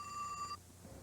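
Telephone in a 1986 Cincinnati Bell TV commercial gives a short bright electronic ring that stops abruptly after about half a second, leaving quiet room tone.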